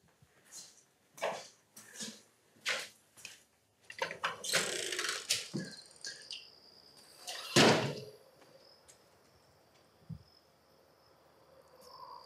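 The door of the West Virginia House at Norfolk Naval Base is handled, giving a string of knocks and rattles, a louder scraping swing, and a heavy thud as it shuts, with a faint high insect-like whine and near silence between.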